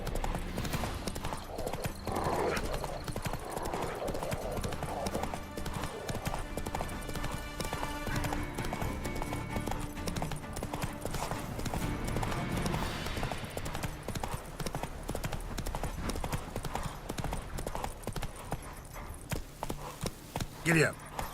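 A horse in The Witcher 3: Wild Hunt pounds along in steady, rhythmic clip-clop hoofbeats at moderate volume for the whole stretch, with game sounds and a brief voice mixed in around them.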